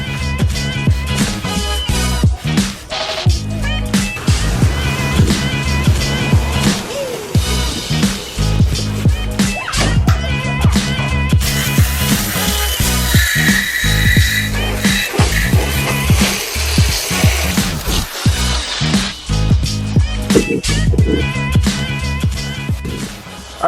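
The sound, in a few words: spraying degreaser on car engine bay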